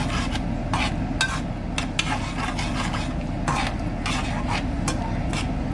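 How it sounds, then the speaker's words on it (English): A spoon stirs ketchup into a pot of stew seasoning and vegetables, giving repeated close scraping and rubbing strokes against the pot over a steady low background. "give that a stir so the ketchup can dissolve"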